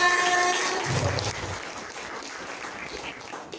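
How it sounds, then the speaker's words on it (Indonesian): Audience applause at a tax outreach event, a moderate wash of clapping that starts full and gradually thins out over a few seconds. "tepuk tangan untuk kita semua"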